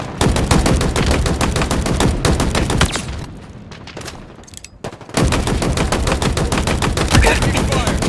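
Rapid automatic gunfire in the video game Halo Infinite, dense loud bursts of shots that pause briefly midway and then resume at full intensity.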